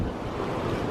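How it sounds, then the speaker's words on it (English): Ocean waves at Walt Disney World's Animal Kingdom in Orlando, Florida, surge in a steady, broad wash of surf mixed with wind noise, close and continuous, with no voices. "can you hear it? Look at the waves."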